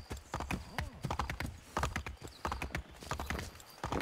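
Horse hooves galloping in Assassin's Creed III, rapid uneven clip-clop beats close by with a brief whinny, running nearly the whole time.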